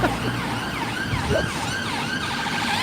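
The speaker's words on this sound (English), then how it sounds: "That ambulance has gone round in a circle." An ambulance siren wails in repeated rising and falling sweeps on a London street, loud and fairly close, with road traffic rumbling underneath.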